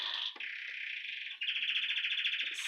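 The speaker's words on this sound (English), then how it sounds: "Not my bird. The more I talk, the louder he gets." A pet bird indoors chirps in bright, continuous trilling runs, loud and close, with a short pause before a second stronger burst.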